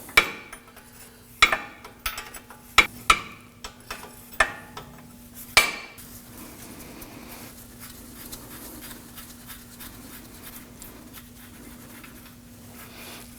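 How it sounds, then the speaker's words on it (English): A hammer strikes a metal wrench about seven times in irregular, sharp metallic clanks to break free a rusted ball joint nut on a Toyota Camry, then a low steady hum with faint clinking continues. "give that wrench a couple bonks with a hammer or something to break that free"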